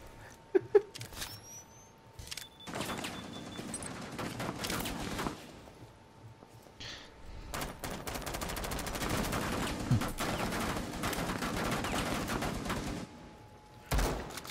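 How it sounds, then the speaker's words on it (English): Shotgun gunfire in the video game Rainbow Six Siege: a loud blast rings out near the start, then dense bursts of rapid firing and impacts crowd the rest of the stretch, ending with another sharp shot. "Yeah, shotguns do so much damage."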